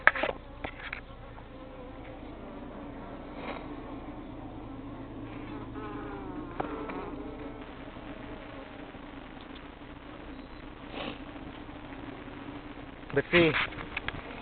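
Bees buzzing around an opened overwintered top bar hive during an inspection, a steady low drone running throughout with someone talking over it and brief handling knocks near the end.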